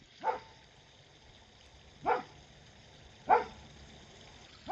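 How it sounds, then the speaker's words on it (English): A dog barks four times outdoors by a pond under construction, single sharp barks spaced about a second or two apart at moderate distance, with a quiet background. "who are you barking at?"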